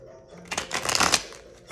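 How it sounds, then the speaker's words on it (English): Tarot cards being shuffled at close range, a quick riffling flutter of card edges that builds and peaks over about a second before fading, with no talk over it. "Okay, 5 times I'm going to shuffle."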